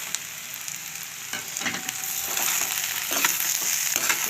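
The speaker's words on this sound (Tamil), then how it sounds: "இந்த பச்சை மிளகாவை, கருவேப்பிலெல்லாம் போட்டுக்கலாம். பீட்ரூட்டையும் போட்டுக்கலாம்." Beetroot, green chillies and curry leaves fry in a pan for beetroot chops, producing a dense crackling sizzle that swells louder partway through, with occasional stirring scrapes close by and no speech.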